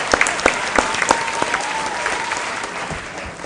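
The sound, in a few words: audience applause for quiz contestants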